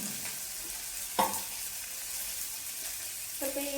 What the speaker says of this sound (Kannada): ಬೇಗ ಫ್ರೈ ಆಗಬೇಕು ಅಂದರೆ ಏನು ಮಾಡಬೇಕು, ಸ್ವಲ್ಪ ಉಪ್ಪು ಹಾಕಬೇಕು.